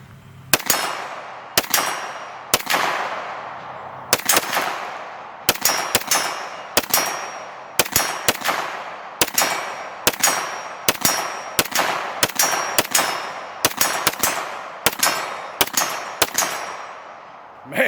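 A Sig Sauer P320 X5 9mm pistol fires a steady string of about twenty loud, sharp shots, each followed by a short ringing decay, with slight pauses between groups of rounds.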